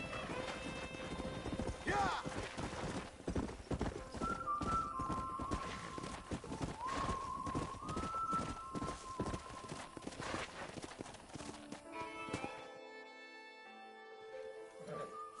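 Horses gallop in the video game Red Dead Redemption, with rapid clip-clop hoofbeats and a whinny, under background music, with a brief spoken word.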